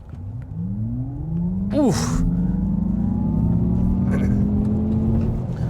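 A 2024 Acura ZDX Type S electric SUV launches hard from a brake-torque start, with a rising electric motor whine and road rumble building steadily from inside the cabin as a voice gives a short grunt.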